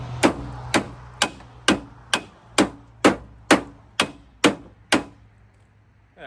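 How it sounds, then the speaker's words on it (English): Hammer striking a washer against a GMC Silverado truck fender, ten sharp metallic blows at an even pace of roughly two per second, loud and close, each ringing briefly before the next. "I have a washer and a hammer and a dream."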